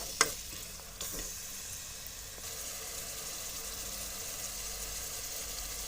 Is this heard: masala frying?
yes